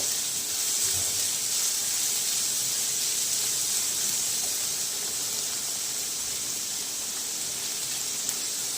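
Boiled corn kernels dropped into hot oil tempering in a pan give a steady, even sizzle and hiss that holds at the same close level throughout, with no voices.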